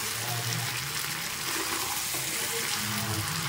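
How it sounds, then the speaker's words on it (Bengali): Water is poured into a pot of duck meat curry whose spices are frying in oil and sticking to the bottom, making a steady, loud rushing pour throughout. "এবার একটু জল দেব,"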